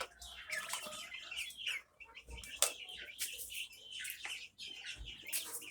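American Light Brahma chickens with their two-month-old chicks give a busy run of chirps, tweets and clucks, close by and fairly steady, with brief wing flutters and faint voices in between.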